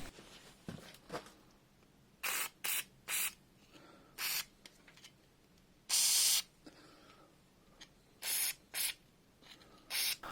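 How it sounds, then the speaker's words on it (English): Penetrating fluid is sprayed from an aerosol can onto the engine studs of a Triumph TR7 engine being torn down, with about eight short hissing bursts of uneven length, one longer blast in the middle, and quiet pauses in between. "So I sprayed penetrating fluid on all the studs."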